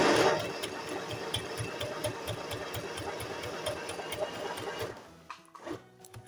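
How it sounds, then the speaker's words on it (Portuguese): A domestic sewing machine stitching steadily with its thread tension set tight, a close, continuous mechanical whir with fast rhythmic needle clatter that slows and stops near the end. "deixei aqui a minha tensão no 9 e vou costurar agora para vocês verem"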